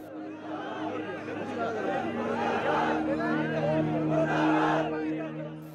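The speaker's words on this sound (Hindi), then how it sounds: "दर्शन के लिए भीड़ उमड़ पड़ी" Large crowd gathered at a village funeral for a martyred soldier, a dense murmur of many voices with some shouts and chanting, steady and close.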